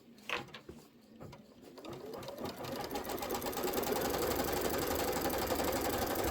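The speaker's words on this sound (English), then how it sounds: "I'm going to go ahead and hit start. It's going to do a placement line first for my batting." An embroidery sewing machine stitches a placement line for quilt batting, starting up and settling into a loud, fast, steady mechanical whir and needle patter, close and alone.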